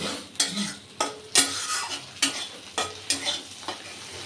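Fish oil fries in a pan while a utensil stirs it, producing a steady sizzle broken by sharp scraping strokes repeated about every half second, close by and with no voices.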